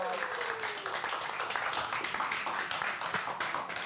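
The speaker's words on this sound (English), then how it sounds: "We need a big round of applause." An audience at a charity crusade fundraiser gives a round of applause, with continuous clapping that runs a few seconds at moderate level and has voices mixed in.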